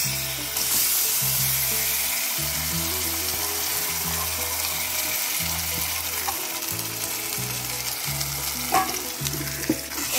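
Ginger garlic paste frying in a pan for an Odisha-style Chilika crab curry, a steady close sizzle with stirring scrapes and clinks running the whole time, no talk.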